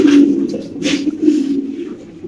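Fancy king pigeons coo in a steady, low, throaty rumble that swells and repeats for a couple of seconds, close and fairly loud, with soft rustling over it.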